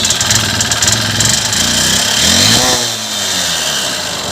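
A Honda Unicorn motorcycle engine idles with an abnormal noise, a close, loud, uneven mechanical chatter that swells briefly as if revved, then settles back to idle.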